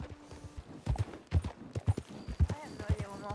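Horse hooves clip-clopping on the ground in Red Dead Redemption 2, a steady walking rhythm of close thuds alongside someone talking.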